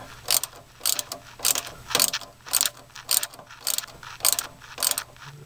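Ratchet wrench tightening the nut on a car sway bar end link, a rapid clicking burst repeated about ten times in an even rhythm, close and clear with no talk.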